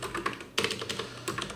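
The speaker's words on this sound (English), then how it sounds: "So we'll type out the rest of our application here." Rapid clicking on a computer keyboard as C++ code is typed, irregular bursts of close, crisp keystrokes with short pauses, no speech.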